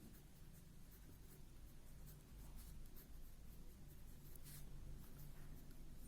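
Soft, continuous scratching of a pen or marker as a teacher writes out a maths inequality, steady and faint throughout with a low background rumble and no speech.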